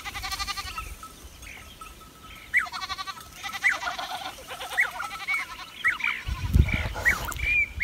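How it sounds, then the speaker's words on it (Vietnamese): A herd of goats bleating in the mountains around Mù Căng Chai, Yên Bái, with repeated quavering calls from several animals at moderate distance, some louder and nearer, alongside low rustling thumps toward the end. "từ nãy giờ cái đoàn dê nó cứ theo mình"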